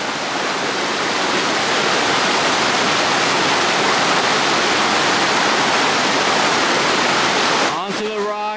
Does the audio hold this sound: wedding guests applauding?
no